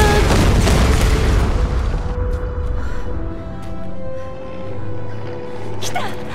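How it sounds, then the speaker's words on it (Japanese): A loud boom from a video game explosion bursts out at the start and trails off into a rumbling decay, with faint crackles and murmurs continuing afterward. "爆発する"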